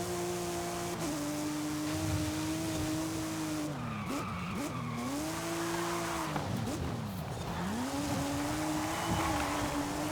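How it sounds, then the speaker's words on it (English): Race car engine revving hard while accelerating in the Forza Horizon 5 racing game, loud and continuous with rising and falling pitch through gear changes and tire skids, no talking. "You can see it pulling away when it's accelerating."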